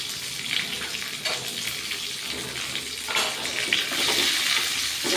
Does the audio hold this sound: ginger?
yes